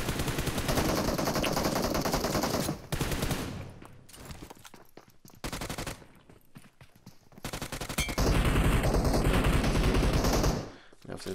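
Gunfire fills a PUBG match on the Glacier map with UMP and M416 rifles, long loud automatic bursts broken by short pauses and a few quieter stretches.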